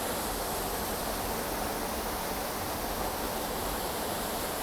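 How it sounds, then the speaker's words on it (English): A waterfall in the Lake District plunges beneath a stone bridge, producing a loud, constant broadband roar of rushing water that fills the scene without pause. "looking up at the bridge with a second waterfall that's falling underneath it."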